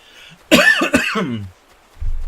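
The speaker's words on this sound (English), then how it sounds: "I am still fighting off that cold, so I'm sorry about the coughing." A person with a cold coughs twice in a close, forceful burst, followed by a faint low rumble; no speech.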